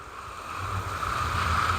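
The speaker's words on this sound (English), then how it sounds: "So I will be watering all of my beds by hand for the first month or two." Garden beds being watered by hand early in the spring season, a steady close rush of water spray running continuously and slightly building in strength, with no voices.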